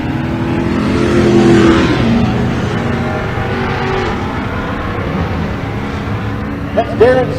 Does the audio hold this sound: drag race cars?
yes